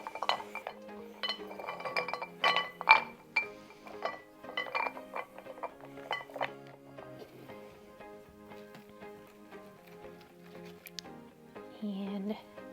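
Wooden beads set around a pot on a coffee table, producing a scatter of light clicking and clinking taps, quiet and close, with faint speech in the background.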